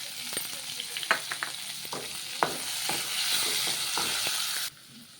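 Slit green chillies fry in hot oil in a pan with a loud, steady sizzle, broken by sharp clicks of stirring and scraping, before it cuts out abruptly near the end.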